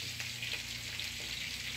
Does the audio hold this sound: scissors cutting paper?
no